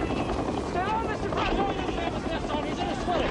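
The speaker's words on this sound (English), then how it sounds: "We're gonna run to the chopper." A military helicopter from the 1990 film By Dawn's Early Light gives a steady, loud rotor roar throughout, with voices and shouts partly mixed over it.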